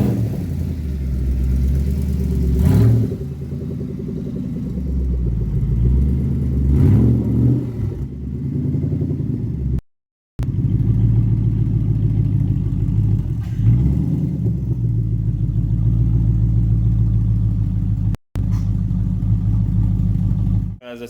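A 2012 Ford Mustang Boss 302 with SLP Loudmouth sidepipes and a resonator-delete exhaust cruises along, its deep engine rumble steady and close, rising in a few throttle surges and broken by two brief dropouts.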